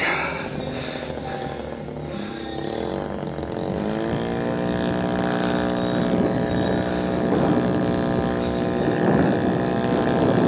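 A 100cc Nitro Planes Yak radio-controlled airplane engine drones loudly and steadily while the plane flies a harrier maneuver, its pitch climbing and holding higher partway through, with no voices over it.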